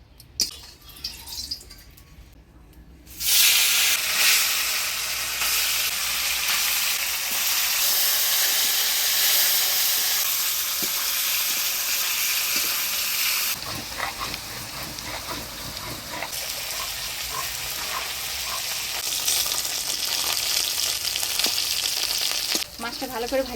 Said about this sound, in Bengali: এবার মাছটা ভাজা বসাই দিই